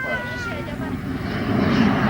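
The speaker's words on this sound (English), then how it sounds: "The spotter aeroplane is always overhead in case of trouble." A spotter aeroplane drones overhead as a steady low engine rumble over a northern Thai hill area, with someone speaking over the noise throughout.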